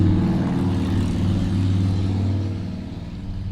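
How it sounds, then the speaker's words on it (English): A motorcycle engine revs loudly and steadily close by, a deep sustained drone throughout that eases slightly toward the end, with no talk over it. "Motorcycles are the bane of my existence when I'm recording because they see it and they love to rev their engines trying to show off"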